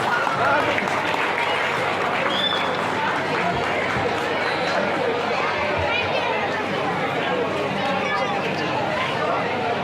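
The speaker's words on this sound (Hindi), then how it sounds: "सर ताली से स्वागत करें, बहुत ही बेहतरीन तरीके से।" Applause and crowd chatter fill the hall at a Durga Puja stage play, steady and dense for the whole stretch, with voices murmuring through the clapping.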